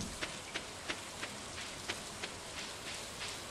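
Steady rain pours in Stardew Valley, a continuous hiss with soft periodic droplet ticks spaced regularly, even and moderately faint throughout with no talking.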